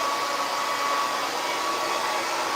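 Hair dryer fitted with a diffuser comb attachment, running as a steady, close, loud broadband whoosh with a constant motor whine, unbroken throughout and with no talking.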